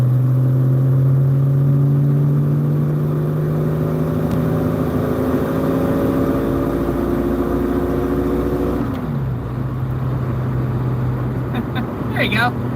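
A 1981 Ford Mustang's 200 inline-six engine runs steadily and loud, a low droning idle with rising tones as it revs, then drops back and settles to a rumbling idle near the end.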